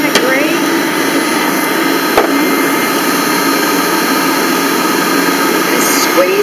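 A Bullet Express juicing machine whirs loudly and continuously while juicing lemon and orange, a steady close motor drone throughout.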